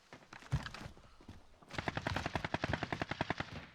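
Rapid bursts of automatic gunfire ring out in a first-person shooter match, a few scattered shots first and then a long, close, fast rattling volley.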